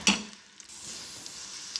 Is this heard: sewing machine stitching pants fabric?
no